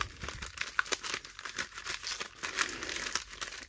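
Trading card packs from a basketball blaster box being shuffled by hand, a soft continuous crinkling and rustling of foil wrappers with quick irregular bursts, close and quiet, with no voices.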